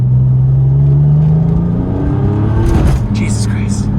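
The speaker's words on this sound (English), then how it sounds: "Little second gear pull." A Porsche 996 Turbo with a Fabspeed exhaust pulls hard in second gear, its engine note rising in a loud, close drone that drops off as the pull ends, with speech-like sounds layered over it.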